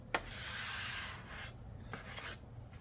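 A buffing rag pressed and rubbed over a wooden charcuterie board works epoxy into the wood, giving a few close, soft rasping strokes, each a brief scrubbing swish separated by short pauses.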